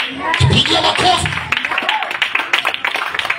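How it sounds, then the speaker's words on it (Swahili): A church congregation at a Sunday service claps together, a quick patter of many hands that runs under the preacher's voice throughout. "Pigia makofi."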